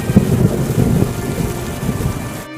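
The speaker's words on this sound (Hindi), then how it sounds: "एक रात आंधी के साथ साथ बहुत तेज बारिश होने लगी।" Heavy rain pours down during a thunderstorm with wind, a loud, continuous downpour with rumbling thunder mixed in, cutting off abruptly at the end.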